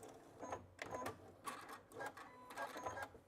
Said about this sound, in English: And then I'll back stitch.